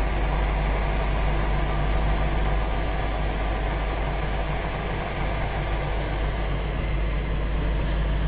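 An experimental engine fitted with an added opposed rotor runs steadily and continuously, a loud, even drone with a strong low rumble and constant vibration, no talking.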